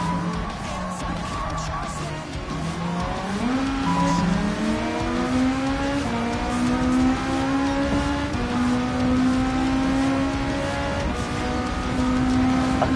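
Race cars, one of them an Audi, roar through a Gran Turismo 7 race, engines revving and shifting pitch steadily up and down, loud and continuous, with tire noise beneath and faint talk in the background.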